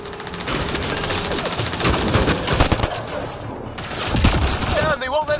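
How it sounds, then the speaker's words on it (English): Rapid weapon fire in a Mass Effect: Andromeda battle, dense overlapping bursts and sharp shots with shouting voices mixed in. "Just keep firing, we can do this!"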